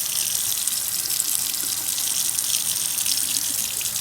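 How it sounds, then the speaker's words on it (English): Water runs steadily from an under-sink reverse osmosis water filter faucet, a constant close hiss of flow with no voices. "You turn the water on."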